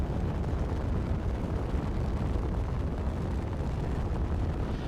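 Gunfire and a blast in Space Engineers survival, a continuous low rumbling roar of sustained explosive noise, dense and fairly faint, without distinct separate shots.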